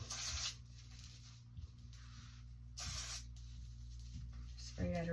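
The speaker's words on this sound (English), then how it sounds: "Spray at her root." Hairspray misted at the roots of a salon client's hair for volume, several short hissing bursts separated by pauses, close by, with a brief voice near the end.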